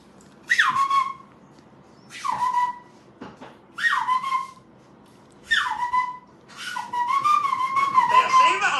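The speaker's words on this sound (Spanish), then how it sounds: "Yo le chiflo, a ver, vamos a chiflar" Several sharp whistles, each a quick rising-then-falling note, repeated with pauses between, followed by a longer wavering whistle; close and fairly loud.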